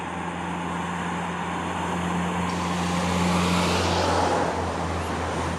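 Vehicles rumble past on a busy road, a loud continuous wash of engine and tyre noise that swells as one passes close by, with no voices.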